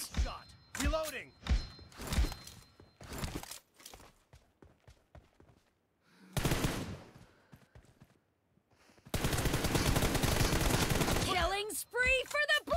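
Gunfire in a team deathmatch video game: bursts of rapid automatic fire and single shots among game voice callouts and thuds, loud and close, with a long sustained burst near the end.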